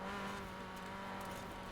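A 2012 Mini Cooper, front-wheel drive, racing in a video game at high speed, its engine holding a steady sustained drone with a faint tire hiss, no talking.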